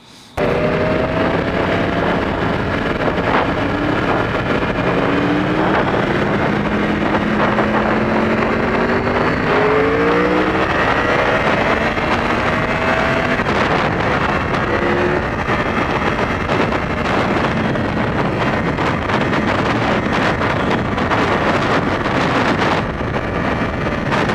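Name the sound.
Yamaha R1 motorcycle engine during roll-on acceleration test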